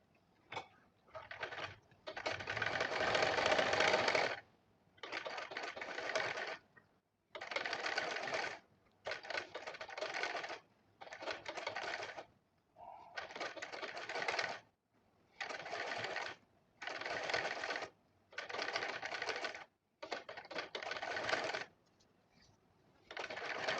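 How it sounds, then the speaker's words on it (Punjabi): An electric sewing machine stitches lace onto a round neckline of fabric, running in about eleven steady bursts of a few seconds each with short quiet pauses between them, close and clear. "ਹੁਣ ਆਪਾਂ ਇਹਦੇ ਉੱਪਰ ਸਲਾਈ ਲਾ ਲਾਂਗੇ"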